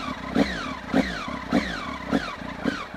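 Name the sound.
Triumph Speed Triple motorcycle engine running through exhausts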